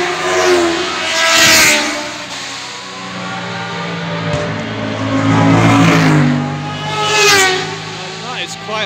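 Sidecar racing outfits at Isle of Man TT practice blast past the Bedstead corner on Harewood Avenue, their loud engines swelling and fading in several close passes over continuous roar.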